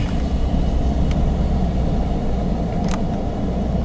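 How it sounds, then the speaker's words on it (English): A car rolls through the fairgrounds in Salem, Indiana, giving a steady, loud, close engine and road rumble that lasts the whole stretch, with no talk. "Just do a quick ride through here."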